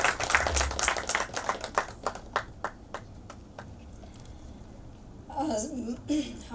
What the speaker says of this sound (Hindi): जोरदार तालियां सीमा जी के लिए